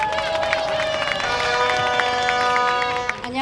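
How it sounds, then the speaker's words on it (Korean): A political rally crowd at an outdoor impeachment voters' gathering in Suwon, South Korea, claps and cheers, with sustained applause and scattered shouts throughout, dense and fairly near. "큰 박수로 모시겠습니다."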